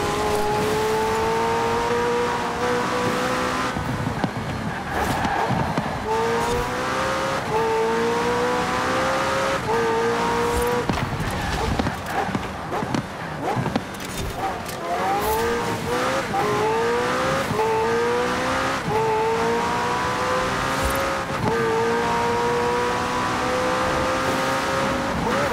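McLaren Senna hypercar engine in the racing game Forza Horizon 4, loud and continuous, repeatedly revving up through gears with rising whines, shifts and tire squeals through corners over the full run, with no talk.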